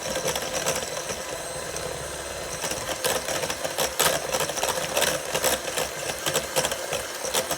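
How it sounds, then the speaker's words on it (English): A hand mixer beats cream cheese with sweetened condensed milk for banana pudding, producing a steady, close, whirring motor hum with a rattling chatter throughout. "So now you're gonna take this same hand mixer and we're gonna beat these together."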